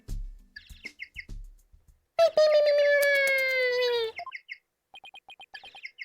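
Penguin-like phone ringtone from the Phoenix Wright: Ace Attorney video game, a bright sustained tonal chirping melody of about two seconds, heard loud and close between short game beeps and blips.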